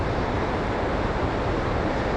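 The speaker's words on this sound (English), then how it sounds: "I just wanted to stop just to show you this river, how fast that's coming down there" A fast-flowing mountain river on the road to Kalpa rushes in a steady, dense roar, loud and close, with no voices over it.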